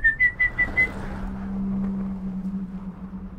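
Short run of bright whistle pips rising in pitch, a person whistling to call a dragon, followed by a steady low hum beneath, close and fairly loud with no speech.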